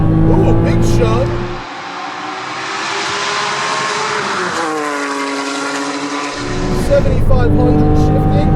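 A turbocharged 2007 Porsche Cayman S accelerates hard on a racetrack, its engine rising through the revs with a shift and then climbing again, loud and close from inside the car, with a voice speaking over it.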